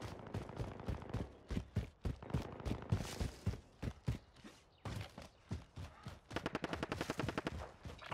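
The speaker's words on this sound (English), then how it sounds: "We know we've got a guy shooting right there." Rapid gunfire in Call of Duty: Warzone, with clustered bursts of sharp shots, some in fast automatic strings, ringing out at moderate distance in an uneven rhythm with brief pauses between volleys.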